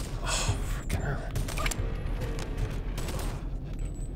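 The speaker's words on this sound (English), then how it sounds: "And they're shooting me through this." Gunfire aimed at the player in the VR game Boneworks, a rapid burst of sharp, close shots with mechanical clatter, spread densely over a steady low rumble.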